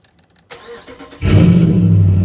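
A 2008 Dodge Ram 1500 with the 5.7 Hemi V8 cranks briefly and then fires up, settling into a loud, steady idle after a few soft clicks and a short starter whir.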